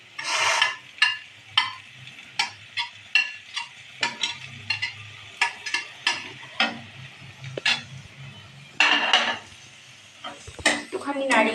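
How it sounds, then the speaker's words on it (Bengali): Previously fried mixed vegetables tipped into a pan and stirred, a run of rhythmic metal spatula scrapes and clanks against the pan with a faint sizzle underneath, loud and close, repeating about every half second. "এবার সবজিগুলো যেগুলো আগে ভেজে রেখেছিলাম ওগুলো দিয়ে দিচ্ছি"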